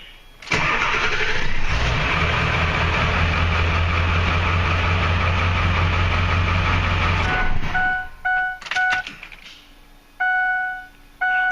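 A 2002 Ford Super Duty engine with glow plugs cranks, fires and settles into a loud, steady idle close by, then shuts off, followed by a few beeps and clicks.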